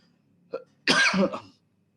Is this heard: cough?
yes